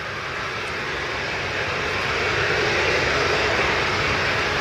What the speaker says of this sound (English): And we have an Airbus landing.